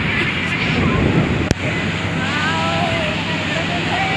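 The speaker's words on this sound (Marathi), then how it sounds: "हे बघा लाट बघा लाट." Surf washing in at Ganpatipule beach, a steady broadband rush of breaking sea waves with wind buffeting the microphone and a brief knock partway through.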